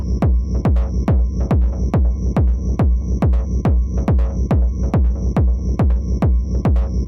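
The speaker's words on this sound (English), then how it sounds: "Feedback cranked up by the Waves Berserk Distortion plugin." Heavy feedback driven hard through a Waves Berserk distortion plugin in a music track's outro, pulsing in a steady, loud throbbing rhythm of about two beats per second with a thin high whine riding above, no voices.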